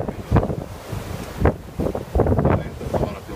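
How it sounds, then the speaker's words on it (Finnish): Strong gusty wind of around 22 metres per second buffets the microphone in loud irregular blasts, rising and falling over a rough constant roar, with no clear voices. "Tuuli on puuskissa varmaan noin 22 metriä sekunnissa vähintään."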